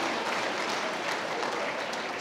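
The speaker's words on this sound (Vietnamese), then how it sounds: "vỗ tay" Steady applause from a congregation during a Catholic Mass in church, a dense continuous patter of clapping hands lasting a couple of seconds with no voices over it.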